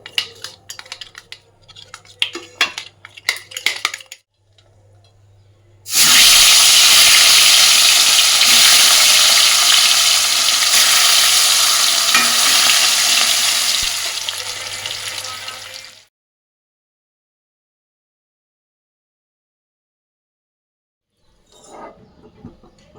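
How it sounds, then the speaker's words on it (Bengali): Catla fish pieces fry in hot mustard oil, a loud, dense sizzle that starts abruptly after scattered clatter, holds steady for about ten seconds, then cuts off into silence. "এই দেখো কাতলা মাছগুলো কিন্তু সব আমার ভাজা হয়ে গেছে।"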